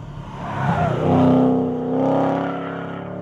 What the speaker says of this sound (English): the supercharger climbs, you hear the squeal